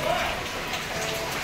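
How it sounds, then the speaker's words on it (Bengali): Steady monsoon rain falls outside, a continuous broadband hiss of drops hitting surfaces at moderate, even loudness throughout. "আজকে সারাদিন এরকম বৃষ্টি চলবে"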